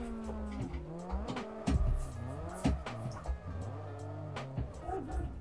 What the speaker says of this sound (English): doing an accidental 360 on my first day of sim drifting